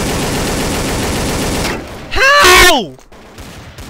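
Counter-Strike gunfire rattles densely and loud through the first half, then cuts off beneath a strained shouted voice.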